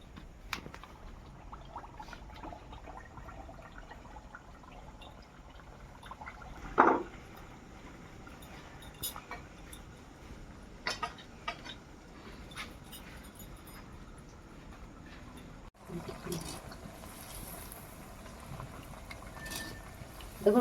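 Aiersa pitha dough frying in hot oil, a quiet, steady bubbling sizzle with occasional soft pops and clinks over about twenty seconds.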